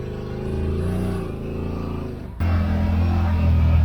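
A Yamaha RMAX side-by-side runs with a steady engine hum that jumps abruptly to a louder, higher-revving drone partway through, close and continuous.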